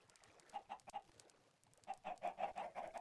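Minecraft chickens cluck in short clustered bursts, a few quick clucks early on, then a denser, louder run after a brief pause, with no talking.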